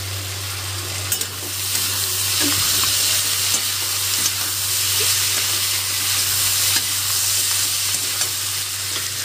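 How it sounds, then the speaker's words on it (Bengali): Vegetables for vegetarian chowmein sizzling in a pan, a loud continuous frying hiss with occasional stirring scrapes and a steady low hum beneath, no voices. "আর এই যে সবজিটা আমার ভাজা হচ্ছে।"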